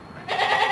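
A goat at a livestock market gives one short, close bleat that starts abruptly after a brief quiet moment and carries to the end.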